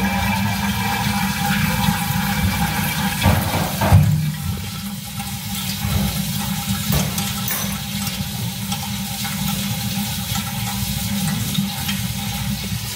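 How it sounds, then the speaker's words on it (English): A wall-hung toilet with a flushometer valve flushing, a steady loud rush of water running for many seconds with a brief surge near the start, continuous and close. "every time you flush this"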